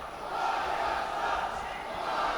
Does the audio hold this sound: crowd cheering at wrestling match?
yes